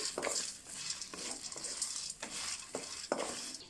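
Steady sizzling of cumin, fried peanuts and curry leaves frying in a pan, broken by repeated scraping strokes of a spatula stirring the contents.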